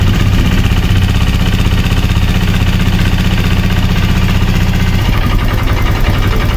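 A Honda Click 150 scooter idles unevenly at low RPM during a top overhaul, a loud, steady close-up engine drone with a pulsing low rumble that shifts slightly near the end.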